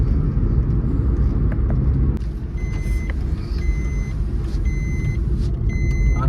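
A Swift car drives steadily along a smooth cement road on the ghat route from Goa to Pune. Heard from inside, a dense, continuous low rumble of engine and tyres carries a few faint high chimes and clicks.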